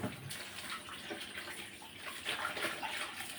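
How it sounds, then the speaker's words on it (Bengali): Fish being washed by hand in water with turmeric and salt gives a short stretch of close splashing and trickling water, fairly quiet and continuous. "মাছগুলো আমি হলুদ লবণ দিয়ে ধুয়ে নিচ্ছিলাম"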